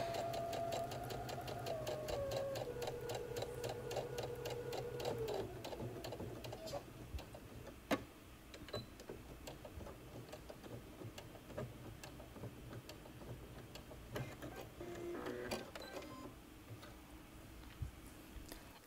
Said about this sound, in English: go back to your sewing machine and sew the hem in place